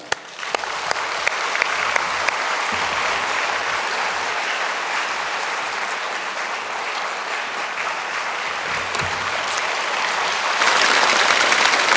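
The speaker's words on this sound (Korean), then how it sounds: "큰 박수로 환영하십시다" A church congregation applauds to welcome a speaker at a Sunday worship service, a dense, sustained wash of clapping that continues for the whole stretch and swells louder toward the end.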